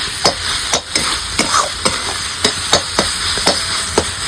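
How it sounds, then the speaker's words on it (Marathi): Hadga flower vegetable with crushed peanuts being stir-fried in a pan, a steady sizzle broken by regular scraping strokes of the spatula, close and fairly loud, with no voices. "थोडंसं परतून घ्यायचं"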